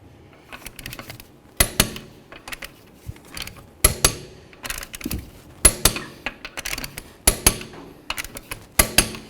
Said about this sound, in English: So now we're going to torque these lug nuts to 95 foot-pounds.